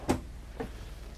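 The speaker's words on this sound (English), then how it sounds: "Look at your utensil drawer." A utensil drawer in a 2021 short diesel luxury motorhome shuts with a soft thud, followed by a quieter second knock, brief and close.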